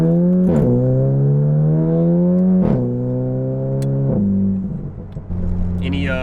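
Turbocharged VW MK7 GTI with an IS38 turbo swap and non-resonated catback exhaust revs repeatedly, loud and close, each rise cut off with a sharp drop, a brief crackle near the end.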